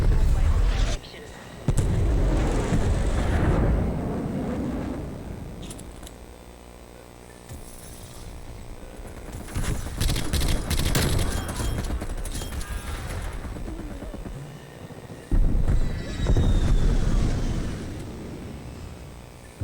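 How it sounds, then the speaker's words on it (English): Aircraft strafing fire in a Call of Duty multiplayer match, bursts of rapid gunfire and explosive impacts arriving in loud waves amid ongoing battle noise, with announcer voices over the top. "Strafe run incoming on your location"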